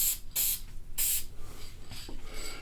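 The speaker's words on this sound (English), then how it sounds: "come in here and go just a quick little airy, you know, spray" Short hissing bursts from an aerosol fixative spray can, several quick puffs in close succession over a colored pencil drawing, nearby and fairly loud.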